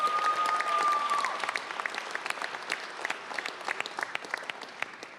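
A crowd at an NFL Draft handoff ceremony in Green Bay applauds event sponsors, starting with full, dense clapping that thins into scattered individual claps before dying away.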